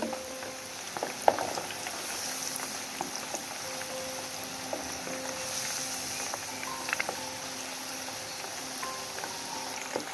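Bangladeshi-style kebabs fry in oil heated over a medium-high stove flame, giving a steady close sizzle scattered with small pops and crackles, with no talking.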